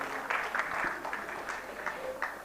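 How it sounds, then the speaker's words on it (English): Conference audience applauding its guests at the inauguration of an international computing conference, a moderate, somewhat distant patter of clapping hands lasting a couple of seconds. "A huge applaud for all our guests for joining us online."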